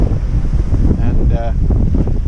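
Strong wind at sea, gusting around 25 knots, roars and buffets continuously across an open microphone, with gusty low rumble and a brief tonal whine in the middle.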